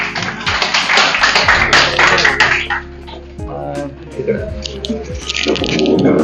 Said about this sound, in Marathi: जोरात टाळ्या वाजवायच्यात